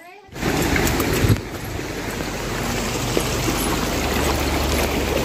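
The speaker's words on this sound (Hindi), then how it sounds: "तो यहाँ पे आ गया है पानी का गठेरा।" Water from a mountain stream rushes steadily and close, a broad continuous wash that starts abruptly after a brief moment of near silence.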